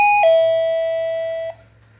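Wireless doorbell rings once with a clear two-tone ding-dong chime, the second tone held for over a second before cutting off, loud and close with a faint hum beneath.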